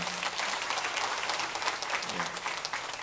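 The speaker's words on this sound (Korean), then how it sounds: "우리 격려와 축복의 박수 한번 해주시면 좋겠습니다." Church congregation clapping in encouragement and blessing during a Sunday morning worship service, a soft, even patter of many hands heard from a distance.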